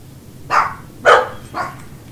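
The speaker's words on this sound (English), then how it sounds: "Dogs are being barkaholics." Dogs in the video game Dragon Age Inquisition bark three times in an evenly spaced sequence, each bark sharp and fairly close, with quiet between them.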